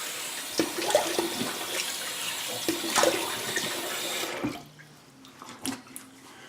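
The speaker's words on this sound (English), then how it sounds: "Cold water rinse." Water running and splashing into a bathroom sink for a cold rinse after a shave, a steady close wash with small knocks that cuts off near the end, leaving faint drips.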